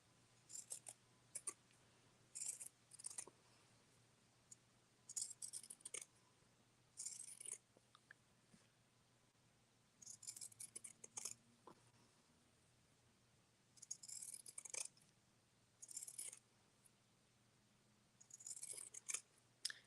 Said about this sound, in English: I gotta be very careful when I go around with my picking shears. Because I don't want to cut my threads.